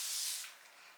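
A room spray gives one continuous hissing spritz, close and clear, that fades after about half a second.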